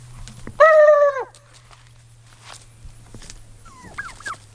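A black Spanish tom turkey lets out one loud, close gobble, followed by fainter clucking fowl calls over a low steady hum.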